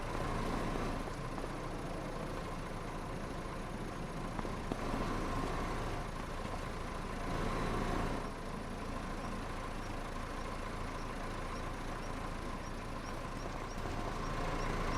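Car engine in a video game running at a steady idle, a continuous low rumble with a constant hum, moderate level and unbroken throughout, no talk.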